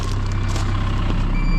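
A Cat 305 mini excavator gives off a steady, repeated electronic warning beep while a new 36-inch Cat bucket is unlocked from its wedge coupler, with the beeps sitting over a low, continuous engine rumble close by.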